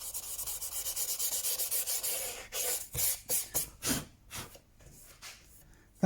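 Hand sanding or rasping of old wood around a brass fitting, a rhythmic series of close, soft scraping strokes, steady at first, then slower and more uneven as the strokes shorten.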